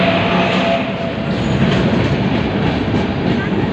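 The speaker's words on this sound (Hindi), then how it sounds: "ये आ गई दक्षिण एक्सप्रेस" The Dakshin Superfast Express from Hazrat Nizamuddin to Hyderabad, train 12722, rolling into a crowded station, a loud steady rumble of wheels and carriages with faint clickety-clack, close and continuous.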